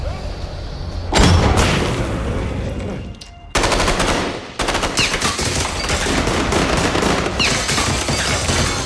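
Heavy bursts of rapid gunfire in a film battle scene rattle loudly and continuously, with a short gap before the shooting resumes, punctuated by booming impacts.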